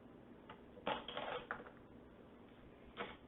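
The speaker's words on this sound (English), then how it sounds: "And then just kind of cut your way through the onion." Knife dicing through an onion on a cutting board for a taco salad, a few sharp chopping taps with a short burst of quick cuts, close and fairly quiet, with no talking.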